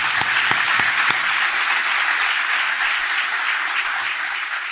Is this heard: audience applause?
yes